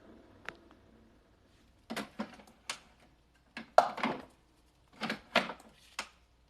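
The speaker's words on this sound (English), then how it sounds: "I'm just making some tea if you guys hear the noise in the background." Scattered kitchen clatter comes from someone making tea: a series of short clinks and knocks of cups, spoons and dishes. They are quiet and irregular, with quiet gaps in between.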